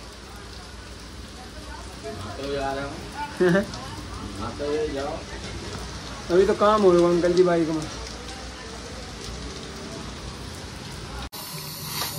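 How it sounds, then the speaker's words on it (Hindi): Steady rain falls outdoors beside a motorcycle being repaired, a continuous hiss and patter throughout while people talk over it at close range. "बारिश नहीं रुक रही गाइस बिल्कुल भी"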